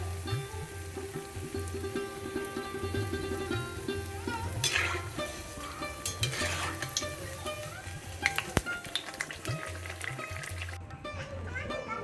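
Pitha cakes frying in oil bubble and sizzle at a moderate level, with the crackle holding steady throughout while a voice talks over it.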